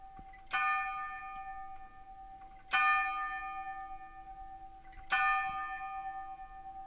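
Two 17th-century bells in the Trnava town clock tower strike three evenly spaced, resonant tolls about two seconds apart, each ringing out with a long decaying hum, heard alone at moderate distance.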